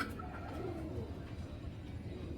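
Giribaz pigeons coo faintly in low, soft murmurs against a steady background hum, with no one speaking.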